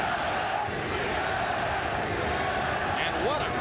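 A large boxing-arena crowd at the Manny Pacquiao vs Juan Manuel Marquez fight keeps up a dense, continuous roar of chanting and cheering, loud and unbroken throughout.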